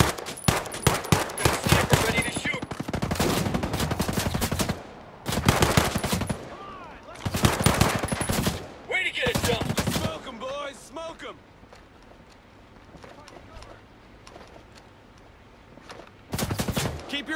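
Rapid bursts of automatic gunfire from the video game Ghost Recon Breakpoint crackle in loud clusters, separated by short pauses, with game character voices calling out between the volleys.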